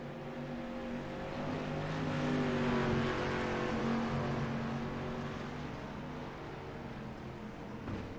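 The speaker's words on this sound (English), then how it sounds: "Some of the cars out on the racetrack right now." Dirt street stock race cars practicing on the Volusia Speedway Park dirt oval, a steady layered engine drone from several cars circling at a distance, swelling slightly mid-clip and fading, with no talk.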